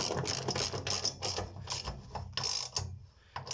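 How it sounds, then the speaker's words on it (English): A T55 Torx ratchet tightens bolts with a rapid run of close mechanical clicks in short bursts, briefly pausing before the clicking resumes. "we can just tighten these down using the T55 Torx"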